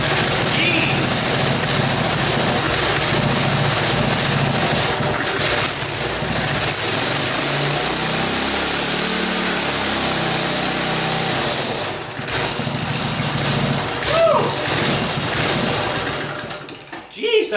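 A Briggs & Stratton go-kart engine runs at a fast idle, its buzzy mechanical drone holding steady and close for most of the stretch, dipping briefly before picking back up.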